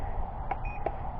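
Holy Stone HS110 drone controller beeping as it is switched on: two short, clear beeps about a third of a second apart over a steady low background hum.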